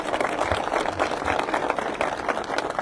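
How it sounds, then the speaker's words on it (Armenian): Audience applause at a public meeting in Aragats, Armenia, a steady crowd of many people clapping together, moderately loud and continuous throughout the short stretch. "ծափերով մի հատ ողջունենք իրար"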